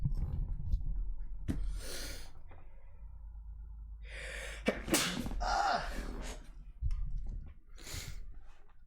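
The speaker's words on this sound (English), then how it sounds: "I also have to sneeze." A sharp sneeze bursts out amid breathy sniffs and small vocal noises, close by, with a few more gasps and snorts following.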